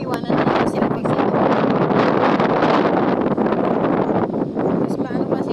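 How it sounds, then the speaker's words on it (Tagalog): Steady wind buffeting across an open farm field where amplaya is being planted, a constant rushing roar against the microphone for the whole stretch, with faint voices underneath. "Buti nga mahangin ngayon, no?"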